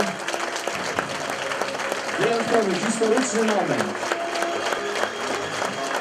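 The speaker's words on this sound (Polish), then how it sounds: "brawa, proszę Państwa." Audience applause at the opening ceremony of a luxury hotel and conference resort spa, steady massed clapping running throughout while someone speaks over it.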